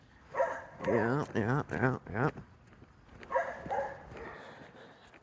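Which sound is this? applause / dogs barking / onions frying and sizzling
dogs barking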